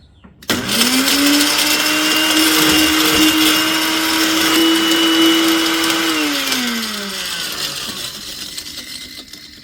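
A heavy-duty Cuisinart food processor grinding turkey bones starts with a jolt and grinds loudly at a steady whine for several seconds, then winds down as the motor slows.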